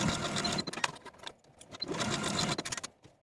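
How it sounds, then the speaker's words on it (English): A sewing machine stitches the shoulder seams of a velvet dress in two close bursts of rapid whirring, separated by a short pause, then stops. "Sew your shoulder seams with a 5/8 inch seam allowance"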